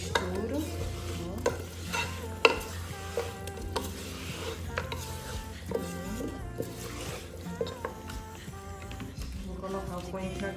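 Coriander is stirred into a simmering meat and vegetable soup, with a continuous scraping, sloshing rhythm and a soft sizzle in the pot while someone talks intermittently.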